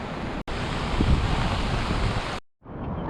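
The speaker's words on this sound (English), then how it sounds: "Look over there, waterfalls around us." Waterfalls pour down steep Fiordland cliffs in Caswell Sound after rain, making a loud, steady roaring rush with wind buffeting the microphone, cut by a brief dropout and a short silence near the end.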